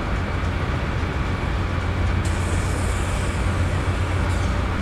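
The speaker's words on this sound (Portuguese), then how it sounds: "deixar o trem aqui ganhar velocidade." A train in the Open Rails simulator gathers speed after the automatic brake is released, a steady loud low rumble with rolling rail noise throughout and a faint hiss rising partway, no speech.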